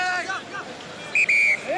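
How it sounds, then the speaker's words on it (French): A referee's whistle at a 1999 Rugby World Cup pool match between France and Namibia gives one loud, sustained blast of about half a second over a murmuring stadium crowd, with a voice heard briefly before it. "Sifflet."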